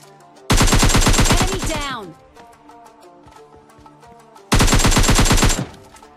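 Two rapid bursts of automatic gunfire from the mobile shooter PUBG Lite, each lasting about a second, loud and close, separated by quieter game sounds.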